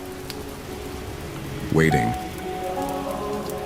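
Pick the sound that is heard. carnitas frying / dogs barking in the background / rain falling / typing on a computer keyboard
rain falling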